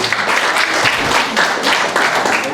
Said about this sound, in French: Mais oui, vous pouvez les applaudir.